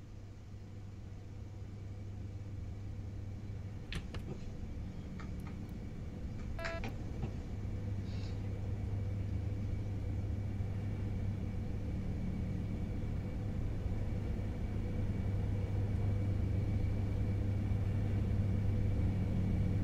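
An IC 1 train with an expert control car and faults runs in Train Sim World 4, a low steady engine and rail rumble that builds gently, with a few faint clicks early on.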